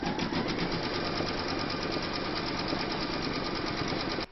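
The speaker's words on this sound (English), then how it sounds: "Pop your hoop into your machine and stitch round number 3." Close up, an embroidery machine stitches a cat coaster design in a hoop, making a rapid, even, rattling needle beat that runs continuously and then cuts off sharply at the end.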